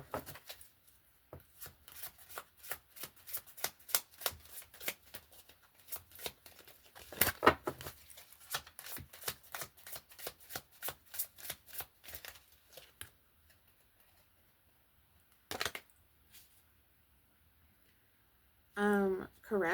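A deck of angel cards gets shuffled in quick repeated riffles and rapid papery flicks, close and fairly quiet, pausing briefly before a last burst; a voice comes in at the end.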